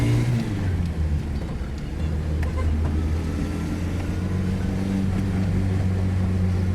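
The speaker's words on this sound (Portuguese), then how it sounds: "É bem característico esse barulho do motor dele com o escapamento, esse roncadinho dele" A Fiat 147 alcohol-fuelled car engine and exhaust give off a steady, low, throaty rumble from inside the moving car, continuous and fairly loud throughout.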